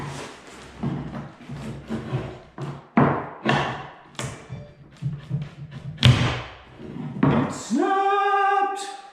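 Chipboard floorboard being worked up over nails, a series of sharp cracks, thumps and taps at close range, ending in a snap and a sustained creaking squeal.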